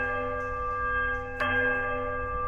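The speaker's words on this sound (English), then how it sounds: "a sudden disheartened toll sounds from the bells" Bells in the fantasy video game Pillars of Eternity toll; a sustained ringing tone hums, then one louder struck toll rings out near the middle and lingers.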